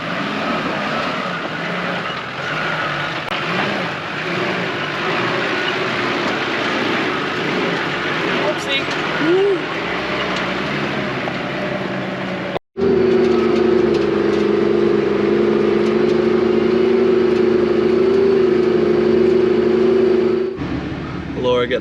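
A 4WD on 35-inch tyres crawls along in low gear with the clutch slipping, its engine droning loud and close, steadier and higher-pitched after a brief cut midway, as a voice talks over it.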